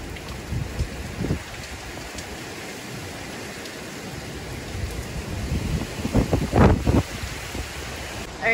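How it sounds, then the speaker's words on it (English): Hurricane Ian drives steady rain and gusting wind outdoors, a continuous close rushing wash that swells in louder gusts, with heavier bursts toward the end. "you can definitely hear the wind."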